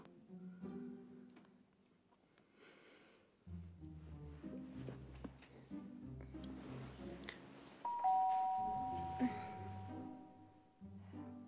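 A doorbell rings once with a sustained tone partway through, over background music in an indoor scene.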